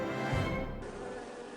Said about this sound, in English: The worker bees and drones follow the queen out of the beehive and will form a new colony.